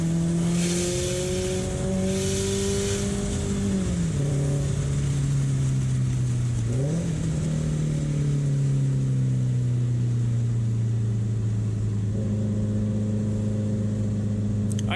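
A car engine pulls hard under heavy acceleration, its loud droning note climbing steadily, dropping at two gear shifts, then rising again.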